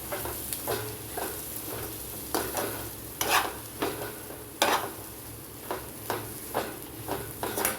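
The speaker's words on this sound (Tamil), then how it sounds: "நம்ம இந்த பச்சை பயிர் இருக்குங்க, இது அப்படியே எடுத்து கொட்டிடலாம். நல்லா வதக்கும்." Green gram sautés in a pan, stirred repeatedly with a spoon, giving a close soft sizzle broken by rhythmic scraping strokes.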